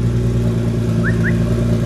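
Nissan GT-R engine running right after its first startup, a loud, steady idle with a deep rumbling drone, close up and without talking.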